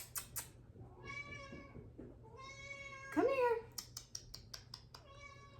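A house cat meows several times, drawn-out tonal calls with a rising and falling cry in the middle, close by indoors, with a person speaking briefly between the calls.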